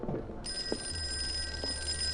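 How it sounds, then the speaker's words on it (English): An old telephone rings in the horror video game Call of Cthulhu: a steady, continuous bell trill starts about half a second in and holds loud and close to the end. "Old phone."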